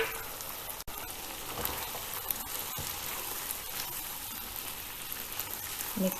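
Paneer sizzling in noodle sauce in a hot pan, a steady crackling fry that runs throughout at moderate loudness with a brief spatula clatter near the end.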